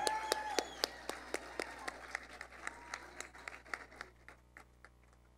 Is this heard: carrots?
no